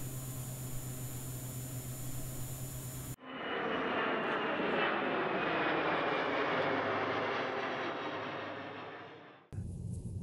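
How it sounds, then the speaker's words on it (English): A single-engine Piper Malibu Meridian PA46-500TP turboprop in the X-Plane 11 flight simulator spools up into a loud, steady whining roar that holds for several seconds, then cuts off abruptly. "a single engine turboprop that can cruise into the flight levels with cabin class style"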